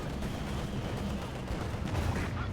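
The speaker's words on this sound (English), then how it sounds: "we got a strafing around there, catching one of the pack crews and absolutely tearing at the side of there" Strafing run gunfire in Company of Heroes 2, a continuous dense rattle of distant automatic fire and rumbling impacts in a busy game battle, steady and loud throughout with no talk over it.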